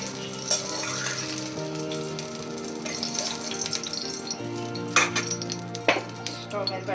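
Ingredients for a mixed-vegetable chutney sizzle and roast in a pan on the stove, a steady soft crackle with occasional scrapes and clinks of utensils, under a sustained humming tone and no speech.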